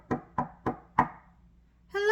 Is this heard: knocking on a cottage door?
yes